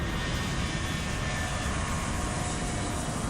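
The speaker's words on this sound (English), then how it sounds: "they're given clearance for takeoff." Donald Trump's plane on the runway for takeoff, a loud, steady, dense engine roar heard close up from inside the aircraft, unbroken throughout with no voices.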